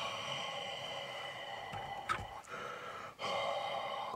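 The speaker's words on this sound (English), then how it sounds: "just breathe on it" Close breathy exhalations onto a rubber mushroom suction cup, soft airy puffs repeated a few times, near and alone.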